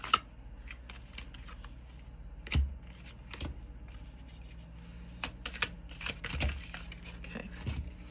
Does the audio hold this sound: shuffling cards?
yes